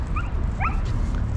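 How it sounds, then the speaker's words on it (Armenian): A dog gives a couple of short, high yips and whimpers at close range over a steady low rumble of outdoor background noise in a city park. "ազատություն սիրող շուն է"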